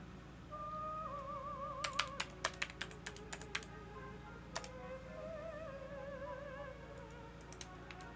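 Fingers type on a computer keyboard in short irregular bursts of sharp clicks, close and fairly clear, over a steady background hum with faint tonal sounds from a game.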